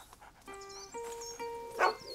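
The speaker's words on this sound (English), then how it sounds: "But it's got a dog" A dog gives a few short barks at middle distance in A Plague Tale: Innocence, set against sustained tonal music with a brief louder burst near the end and no speech.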